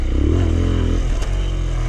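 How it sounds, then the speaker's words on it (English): A trail motorcycle engine drones loudly up close, pitch rising and falling briefly as it revs to lift the front wheel, with a faint clatter midway. "clutch in, revs high, compress forks, and then up and down, and you land nicely"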